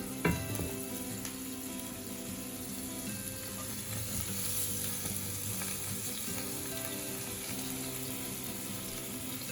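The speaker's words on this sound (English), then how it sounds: "Add in the salmon once the oil is heated up. We'll be frying the salmon." Salmon fries in light olive oil in a pan, giving a steady, close sizzle and crackle that holds evenly throughout, with a few faint clinks and stirring noises and no talking.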